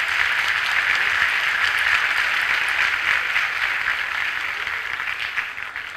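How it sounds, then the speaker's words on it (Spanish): Sustained audience applause at an academic ceremony honoring a doctor, a dense, steady wash of many hands clapping close by for the full six seconds, tapering slightly at the end, with no voices over it. "démosle un fuerte aplauso al doctor."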